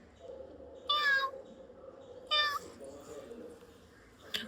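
Three short, rising-and-falling meows sound close and clear over a low, steady background hum, spaced a second or more apart, with voices heard nearby.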